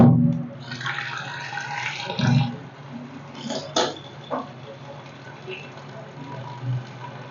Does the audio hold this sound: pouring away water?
yes